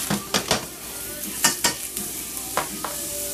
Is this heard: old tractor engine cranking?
no